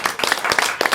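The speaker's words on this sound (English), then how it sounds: "Another round of applause." Brief, fairly faint applause from an audience after a presentation, with a few scattered claps in a quick run.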